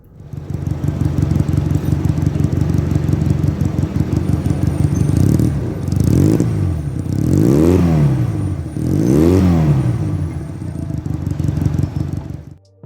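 A restored Honda Benly 150 CA95 motorcycle engine, built to original specification, idles steadily with a rough mechanical clatter, then revs up and falls back three times in smooth rising and falling swells, loud and close throughout.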